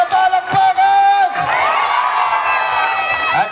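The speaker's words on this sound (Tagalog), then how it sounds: "Muli parinig ng palakpakan na may kasama sigawan" Crowd at a proclamation rally in Cabanatuan cheers, shouts and whoops loudly, voices rising into a sustained roar with applause beneath, close and dense throughout.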